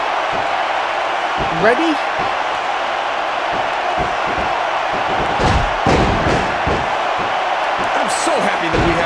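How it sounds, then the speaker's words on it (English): An arena crowd roars steadily in the WWE SmackDown vs Raw 2006 wrestling game, with dull thuds and slams from the ring and a brief voice over the continuous crowd noise. "I think these superstars are getting some feedback from the crowd, JR."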